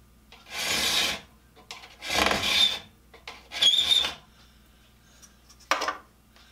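A hand file rasps across the teeth of a carbide saw blade in four or five short, gritty strokes separated by quiet pauses, close up and with no voices.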